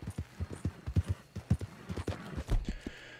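Horse hooves clip-clop in a quick, steady rhythm close by in Red Dead Redemption 2, with a brief soft snort near the end.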